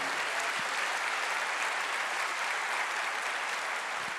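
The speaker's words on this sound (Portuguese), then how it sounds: "Pode aplaudir." A church congregation applauding after a sermon: a dense, even wash of clapping from many hands, steady and moderately distant, holding without pause throughout.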